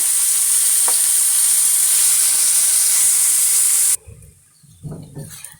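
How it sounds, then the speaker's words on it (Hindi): Half a kilo of potatoes for potato kebabs goes into a hot frying pan, giving a loud, steady sizzling hiss that cuts off abruptly, followed by quieter scraping and stirring sounds. "अब मैं इसमें आलू डाल रही हूँ। ये आधा किलो आलू थे।"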